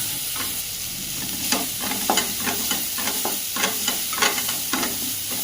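Onions frying in hot oil for a Kerala-style prawn curry, a constant sizzle broken by repeated scraping stir strokes from a spoon against the pan, close and clear with no voices.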